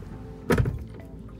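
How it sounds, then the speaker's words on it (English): The soft-close door of a 2017 Bentley Bentayga pulls shut with a single muted thump, fairly quiet against a calm interior background. "Soft closed doors."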